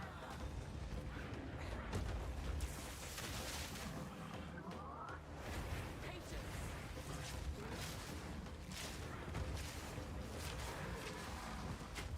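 Explosions in the video game Path of Exile 2, a dense, continuous wash of booming blasts and whooshing bursts that keeps loud and steady throughout, with faint voice fragments mixed underneath.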